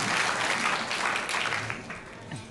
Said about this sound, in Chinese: 我们掌声给他支持